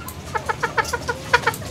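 A green junglefowl gives a quick series of about ten short, close clucks at an even rhythm during mating.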